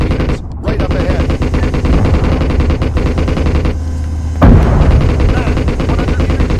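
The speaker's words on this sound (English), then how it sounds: "Machine gun. 100 meters. Right up ahead." Sustained machine gun fire in a combat zone around Bakhmut, a dense rapid stream of shots running nearly the whole time, loud and close, with a brief break and a heavy burst near the end.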